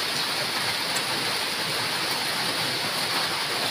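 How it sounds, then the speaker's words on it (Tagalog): Heavy rain pours down in a dense, unbroken hiss that stays loud and even throughout, with no voices over it. "lumakas na ng ulan"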